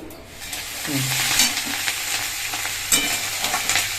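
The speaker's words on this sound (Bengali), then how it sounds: "এখানে দেখো পেঁয়াজের কলি আর আলু কিন্তু ভাজা বসিয়ে দিয়েছি" Onion stalks and potatoes fry in a pan with a continuous close sizzle, with a few scraping stirs and light clinks and no voices.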